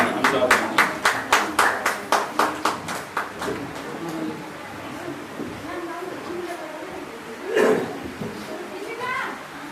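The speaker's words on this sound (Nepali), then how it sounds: "हामी उहाँलाई ताली बजाएर" An audience at a Christian cultural program claps in steady rhythmic unison to welcome a pastor, with about a dozen crisp claps in the first few seconds before the clapping fades into indistinct voices and murmur.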